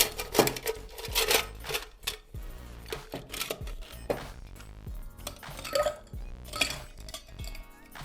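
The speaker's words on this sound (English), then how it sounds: "Now we need ice." Ice cubes go into a Jagermeister Lagoon cocktail that already holds fresh lemon juice, making a run of bright clinks and clattering knocks against the glass, close and fairly crisp, with no talk.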